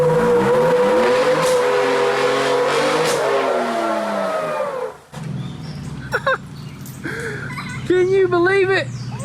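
Engines of an electric Tesla Model X and a V6 vehicle during a powertrain test, a loud sustained revving drone for about five seconds, then a quieter stretch with scattered squeaks and chirps, with people talking throughout.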